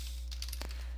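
A few soft, quick keystrokes on a computer keyboard while a Windows 10 search is typed, heard as short irregular clicks close by over a steady low electrical hum, with no voices.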